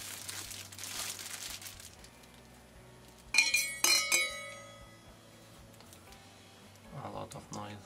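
A 41 oz glass barber sterilizer jar is handled, giving sharp glassy clinks and a ringing clatter in the middle amid crinkling handling noise, with a voice speaking.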